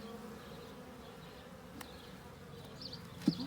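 Honey bees buzz softly and continuously around an open hive during a four-week inspection, a faint steady drone with a few individual bees passing close.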